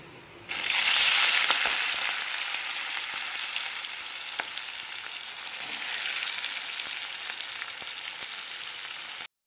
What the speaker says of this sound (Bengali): তেলটা গরম হয়ে গেছে, এবার চিংড়ি মাছগুলো ভেজে নেব।